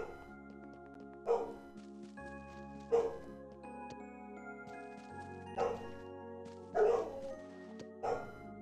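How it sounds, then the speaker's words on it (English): Dogs barking in Rune Factory 5, a farming life-sim game, with five separate bark bursts spaced a second or two apart over a steady backdrop of soft game music. "Dogs go bork."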